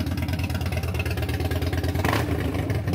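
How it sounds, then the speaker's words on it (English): A Harley-Davidson Dyna motorcycle engine, close and loud, runs with a lumpy pulsing beat and blips up in a short rev near the end. "give it a little rev"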